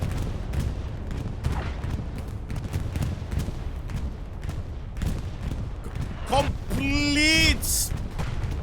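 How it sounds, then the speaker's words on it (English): Heavy explosions from a bombing run rumble and crack across a Stalingrad battlefield in Hell Let Loose, with scattered gunfire between booms and a loud burst near the end, while a voice talks over the battle. "Is this a bombing? Now a bombing run?"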